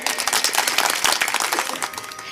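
An audience at a kirtan claps in a dense burst of applause that gradually thins out toward the end.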